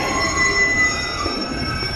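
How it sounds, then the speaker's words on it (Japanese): A train pulls into a station with a sustained high metallic wheel squeal over steady low rumble and rolling noise, fairly close and loud throughout. "電車が今来た"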